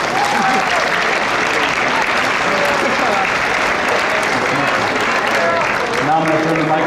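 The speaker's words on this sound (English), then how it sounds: "Let's give them a round of applause." A school academic awards audience applauds the students, a dense, steady wash of clapping that stays loud throughout, with some cheering and voices underneath.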